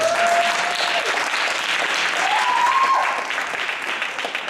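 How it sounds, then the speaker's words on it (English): A crowd claps steadily and fairly loudly throughout, with a brief whistle-like tone above the clapping before it eases slightly at the end. "Give it up for LS World, everybody."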